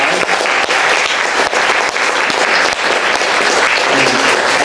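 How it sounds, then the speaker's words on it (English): Steady, dense applause from a talent showcase audience thanking the stage crew, loud and sustained throughout without a break. "So let's give them a round of applause."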